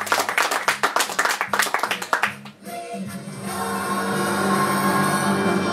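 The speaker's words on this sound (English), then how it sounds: "Give Ashton a nice welcome and a round of applause." An audience claps enthusiastically at a live comedy show, a burst of loud individual claps that fades after about two and a half seconds into a steady low hum of room noise.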